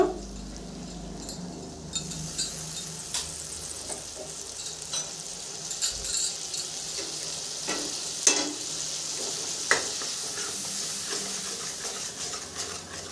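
Poppy seed paste with water stirred and fried in a pan for a katla fish posto curry, giving a steady soft sizzle with scraping stirs and occasional sharper clinks throughout.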